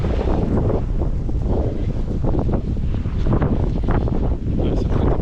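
Strong wind from a snowstorm in Quebec buffets the microphone in a continuous, loud rushing roar with gusty swells and no clear breaks.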